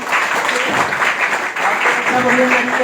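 Steady, loud applause from an audience at a network marketing business seminar, close and continuous for the full few seconds with a brief dip midway.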